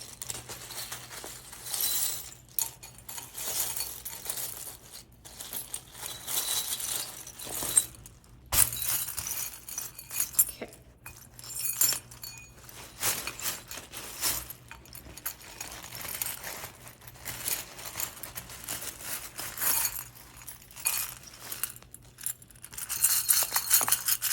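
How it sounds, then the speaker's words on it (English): Small hard charms rattle and clink together in repeated bursts, a bright jangling shuffle with brief pauses, close by and fairly quiet. "let me just shuffle my charms"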